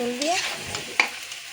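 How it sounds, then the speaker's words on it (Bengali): Chunks of taro (kochu) are sautéed in a pan, giving a soft sizzle with stirring scrapes and a sharp utensil clink, after a brief voice at the start. "কচুটা ভালো করে কষাই নিয়ে"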